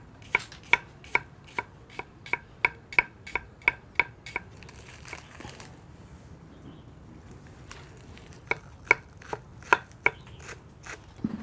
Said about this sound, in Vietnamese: Tôi thái hành để tôi phi cho thơm.